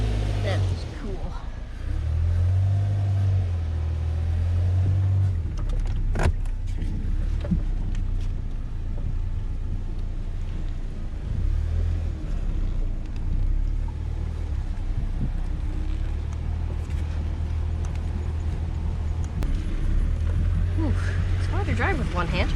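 A lifted Kia Spectra being driven slowly, its engine a steady low rumble close by with faint rattles and wind noise throughout, while someone talks over it.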